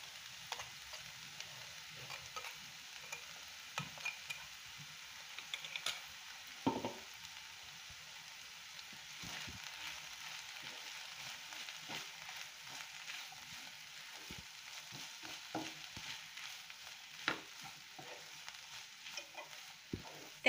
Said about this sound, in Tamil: தேங்காய் சேர்த்து நல்லா mix பண்ணியாச்சு